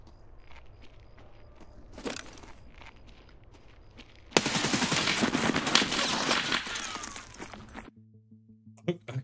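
A few scattered shots, then a sustained loud exchange of gunfire in Escape From Tarkov lasting several seconds, with faint footsteps and gear rattles around it.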